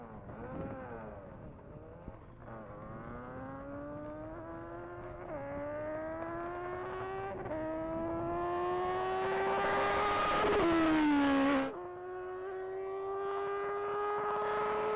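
A Cliff Rainey tribute motorcycle built by Motorcycle Missions makes a top-speed run at the Texas Mile, its engine climbing through several long rising gears with brief dips at each shift, loud and sustained as it accelerates.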